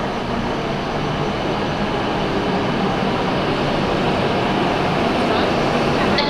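A Shinkansen Hikari bullet train at a station in Japan's Hokuriku region, a loud, steady rumbling roar sustained throughout without break.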